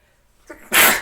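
A single sharp human sneeze bursts out after a short intake of breath, close and loud, in a quiet room during a tabletop role-playing game session.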